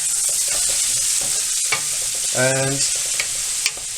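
Onions fry in flavoured oil in a pan with a steady close hiss and crackle, punctuated by a few clinks and stirring scrapes; a brief word is spoken.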